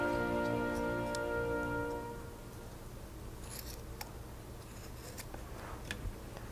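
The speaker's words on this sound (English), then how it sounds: "then we'll cut that off" Scissors trimming off material from a homemade bagpipe chanter carrying bag. A few crisp, close snips follow a fading hum and stand alone without talking.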